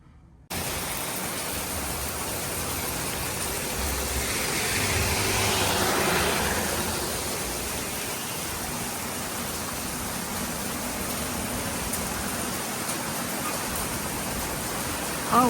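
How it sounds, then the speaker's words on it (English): Heavy rain pours down in a dense, steady hiss after a brief quiet start, with a faint low rumble partway through and no voices. "Oh wow, it's really raining."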